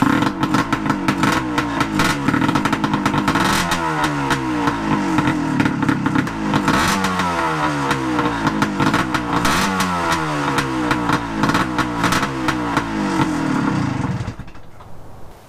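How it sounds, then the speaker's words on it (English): A 1975 Suzuki TS185 two-stroke motorcycle, started after sitting outside for years, runs close and loud with a rattling ring-ding idle and repeated throttle blips rising and falling, then cuts off abruptly near the end. "I love that two-stroke, that classic sound."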